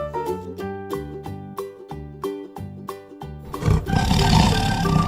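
A tiger roars in a low, rough, drawn-out burst during the last second and a half, after a stretch of plinking background music that plays alone at the start.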